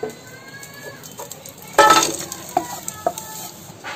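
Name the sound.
jaggery melting and being stirred in a hot pan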